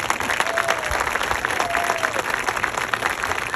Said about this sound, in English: please give a round of applause for our 8th grade band